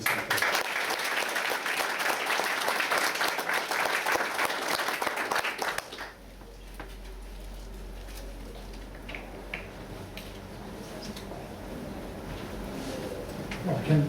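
A hall audience applauds to welcome New Zealand politician Bill English at a 2013 university business club talk, with dense clapping for several seconds that stops abruptly, leaving quiet room tone and a low hum.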